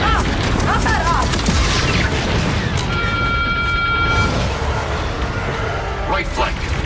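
Star Wars Outlaws battle: turret gunfire and booming explosions pound loudly over continuous action noise and electronic tones, with characters' voices shouting over the combat.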